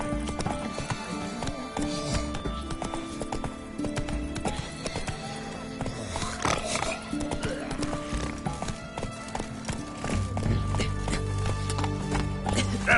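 Roach, a horse in the video game The Witcher 3, gallops with quick, rhythmic hoofbeats that run steadily throughout amid game music and ambience, with a brief neigh.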